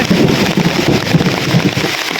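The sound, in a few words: heavy rain falling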